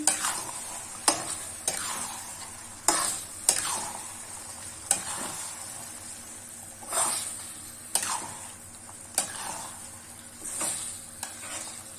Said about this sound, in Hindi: कढ़ाई में हम अच्छे से फ्राई कर लेते हैं